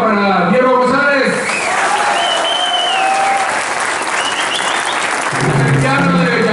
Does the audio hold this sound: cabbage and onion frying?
no